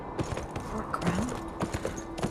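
Horse hooves clip-clop in a steady riding rhythm in the video game Beyond: Two Souls, close and clear over a soft ambient game bed, with brief game voices around them.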